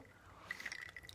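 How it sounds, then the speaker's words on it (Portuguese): Guaraná soda poured into a glass at home, a soft fizzing trickle with a few brief bright splashes and bubbling pops, quiet and close. "É guaraná"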